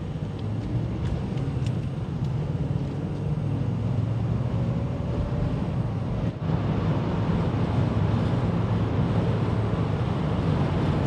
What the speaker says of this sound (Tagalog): Sobrang hampas ng hangin. Ang kahit dito sa loob, diba, dinig na dinig.